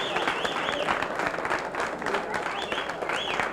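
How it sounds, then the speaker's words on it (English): An audience applauds steadily and fairly loudly for a man presenting a $6,000 check, sustained clapping with a voice briefly heard over it. "I would really encourage a loud, resounding sound of applause"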